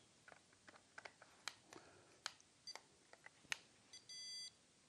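A handheld stud finder beeps as it passes over a wall stud, giving a series of short, sharp electronic bleeps at irregular intervals and ending in one longer steady tone, close and clear with no talking.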